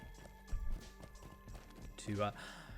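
A horse's hooves clip-clop at a brisk pace in the online game The Lord of the Rings Online, a short run of hoofbeats with a brief whinny-like call and someone talking over it.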